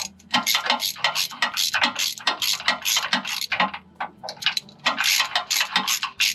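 A socket wrench ratchets on stuck pan bolts of a 4L80E transmission, giving quick bursts of sharp metallic clicks in an irregular rhythm, close and loud, with short pauses between strokes.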